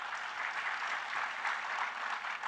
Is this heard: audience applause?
yes